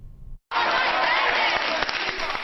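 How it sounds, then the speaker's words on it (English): After a brief cut, a loud, dense din of shouting immigration activists drowns out Democratic leader Nancy Pelosi at a San Francisco press conference, with scattered claps within the continuous crowd noise. "For nearly an hour, immigration activists outshouted the Congresswoman."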